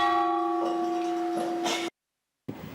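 A castle bell in Radomyshl rings out once with a sustained, humming metallic tone that hangs steadily before cutting off abruptly, followed by brief faint rustling.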